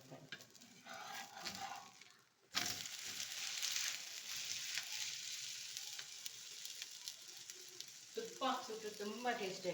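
Wheat and ragi flour masala roti sizzles in oil on a pan over a low flame, a steady close hiss that drops out briefly, then resumes loudly, with a voice speaking over it.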